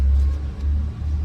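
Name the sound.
Honda PCX 150 scooter engine running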